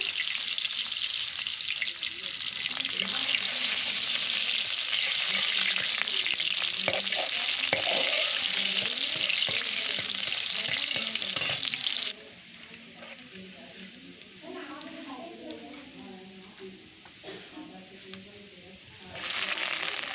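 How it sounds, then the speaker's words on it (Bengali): Chopped onion dropped into hot oil in a wok, a loud continuous sizzle and crackle that suddenly drops to a quieter bubbling fry with scattered scraping and a faint voice, then flares up loud again. "তেলটা গরম হয়ে গেছে, দিয়ে দিচ্ছি পেঁয়াজ কুচি"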